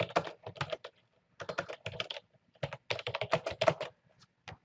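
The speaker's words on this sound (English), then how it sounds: "I'm just going to type in something very basic here." Steady typing on a computer keyboard, with quick clustered bursts of key clicks broken by short pauses, close and fairly quiet with no voices.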